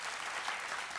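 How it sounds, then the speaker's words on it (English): An audience at an event breaks into applause, a dense, even wash of clapping heard up close for about a second. "Okay, so here's the applause."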